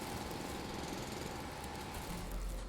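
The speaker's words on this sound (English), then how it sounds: "So that means a little bit of drilling to clean up stuff." Drilling in the video game Foundry comes through as a steady, dense mechanical grinding drone that holds at an even level throughout, with no speech.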